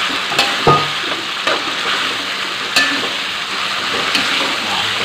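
Salted squid frying in a pan with bay leaves and lime leaves for a spicy squid sambal: a steady, close sizzle with a few sharp scrapes and knocks from stirring.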